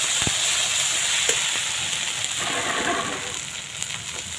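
Ginger, garlic and green chillies sizzle steadily in a hot pan, a close, continuous frying hiss with occasional scrapes and clicks of stirring.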